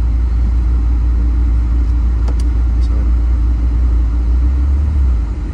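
A mk4 Volkswagen Golf VR5 with a newly fitted drive shaft moves under its own power, giving a steady, loud low engine rumble throughout with a couple of faint clicks mid-way.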